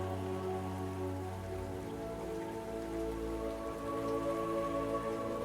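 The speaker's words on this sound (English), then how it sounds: "I play some like soft rain sounds in the background just for the vibes" Soft recorded rain plays as a steady background bed, mixed under calm game music with sustained tones, continuous and even throughout.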